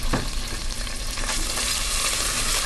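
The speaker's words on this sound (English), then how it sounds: "I'm just going to go ahead and stick this chipotle in there just to give it a little saute." Chipotle pepper sizzling and frying in hot oil in a cooking pot, a steady bright crackle throughout with a few stirring scrapes, close and fairly loud.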